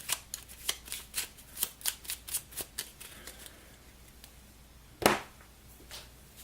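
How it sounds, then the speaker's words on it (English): Cards from a deck in The Big Book of Madness board game are shuffled up close, a run of quick crisp riffling snaps in a steady rhythm, then a pause and one sharper slap near the end. "she is also able to shuffle her deck"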